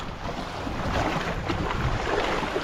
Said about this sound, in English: the wind has picked up just a little bit, not much. And the water just got rough